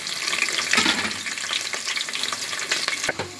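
Chopped onions and green chillies sizzle in a hot pan, a dense continuous frying hiss with small crackles and spatters, close and fairly loud.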